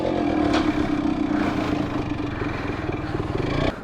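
A motorcycle engine runs close by with a throbbing mid-pitched note, swelling in a few short revs over an uneven idle, with a mechanical clatter and no talking.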